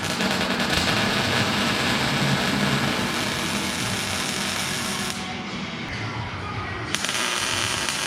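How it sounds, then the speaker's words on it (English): A welder lays a bead to join a top cap onto a car frame rail, giving a steady, dense crackling hiss that runs close and unbroken with only a brief dip partway through. "So I'm just going to weld this top cap on"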